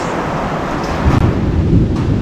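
Heavy rain pours down on a house in a steady dense roar, with a low rumble of thunder and wind gusts swelling midway through.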